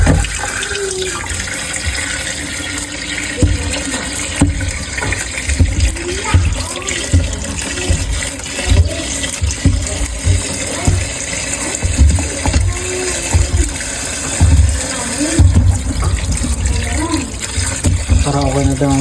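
Tap water pours loudly and steadily into a cooking pot being filled before boiling sweet potatoes and saba bananas, a dense close splashing that runs throughout with faint talk in the background.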